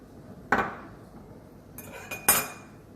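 A utensil clinks sharply against a bowl while egg is worked into a tomato and cheese tart filling, with one knock, then a pause and a quick cluster of clinks.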